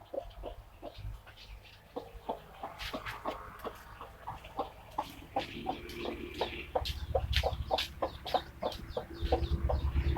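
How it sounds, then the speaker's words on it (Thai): Chickens cluck in a farmyard where ducks and chickens are drinking water, giving steady repeated short clucks over a low background rumble, close and moderately loud, with no talk. "เป็ดกับไก่ก็ได้กินน้ำกันจ้ะ"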